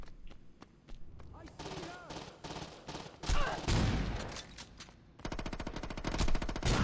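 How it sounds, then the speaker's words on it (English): A shotgun and other gunfire in the Saints Row video game, bursts of rapid shots and heavier blasts trading back and forth, loud and close, with some voices underneath. "Oh yeah, the shotgun is amazing."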